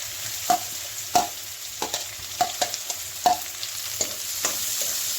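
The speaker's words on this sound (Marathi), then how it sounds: "तेल तापलंय आणि हा आता कांदा घालते" Onion added to hot oil for a Malvani-style mushroom curry fries with a constant close sizzle, broken by regular soft taps and scrapes of a stirring spoon, with no one speaking.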